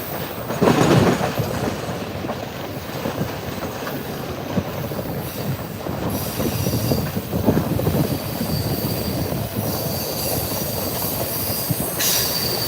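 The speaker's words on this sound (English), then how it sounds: "you are on a moving train" Heard from on board a moving steam excursion train hauled by locomotive 2102 with a diesel helper, a continuous loud rumble of rolling wheels carries steady clatter and metallic squeals throughout.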